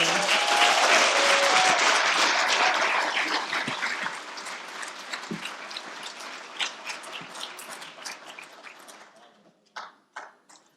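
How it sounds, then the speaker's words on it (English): Loud applause from the audience at a lecture-series conversation at Phoenix College, strong at first, then fading into scattered individual claps, with a few voices near the end. "Let's give another round of applause to Eric Fischl and Kate Capshaw"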